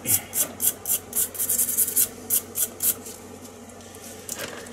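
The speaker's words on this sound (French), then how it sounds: "Ça c'est super rouillé. Est-ce que avec la brosse ça va donner quelque chose?" A stiff brush rasps in quick, regular strokes over a badly rusted tool with worn plating, roughly a dozen scrubbing bursts close up, then slowing into quieter, irregular rubbing with no talk.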